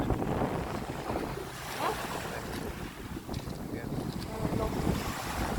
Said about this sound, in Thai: โอ้ลมดีมากเลยอะ